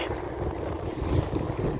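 Steady wind rushing and buffeting against the microphone outdoors in cold, cloudy weather, a continuous low roar with gusts swelling toward the middle.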